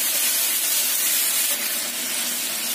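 Beef and onions being stirred in a hot pan give off a continuous, even, hissing sizzle, close and fairly loud, with no distinct scraping strokes standing out.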